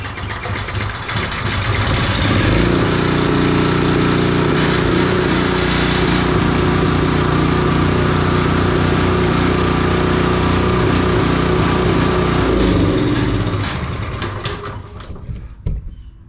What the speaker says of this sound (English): We got a runner. That is good. We know we got a good engine.